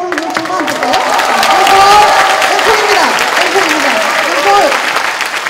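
Audience clapping for an encore at a women's choir regular concert, steady crowd applause with a few cheers, while people talk over it in Korean.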